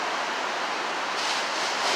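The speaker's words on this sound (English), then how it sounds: "Thousands of gallons coming out in a minute." Water gushes steadily from a large water main break at Neponsit Circle, a loud, constant broadband roar like surf with no pauses, close and continuous throughout.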